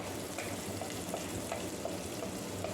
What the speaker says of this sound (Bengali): কাজুর সাথেই এই রসুন এবং আদাটাও একটু ভেজে নেব।